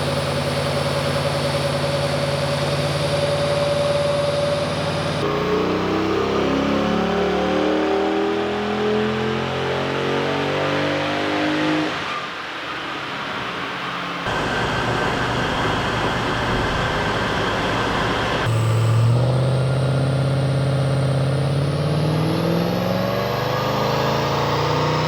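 A naturally aspirated LS V8 running on its stock exhaust, loud and close, idling then revving up and down through several distinct throttle changes, with a brief dip near the middle and no talking.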